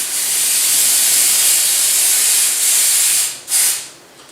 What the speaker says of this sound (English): Using a little bit of cleaner here just to clean off the oil